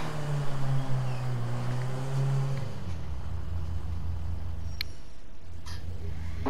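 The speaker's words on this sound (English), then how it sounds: "You can hear your car, you can turn the wheels, but you can't actually even move it backwards or forwards." A car engine in GTA 5 idles with a steady low hum after a brief higher revving tone drops away, fairly quiet and constant, with a couple of faint clicks near the end.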